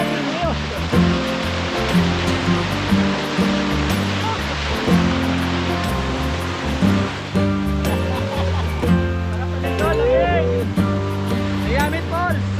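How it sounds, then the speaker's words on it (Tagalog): Waterfall at Miami Falls in Porac, Pampanga, roaring in a steady, loud rush throughout, with excited shouting and cheering voices over it. "Miami Falls!"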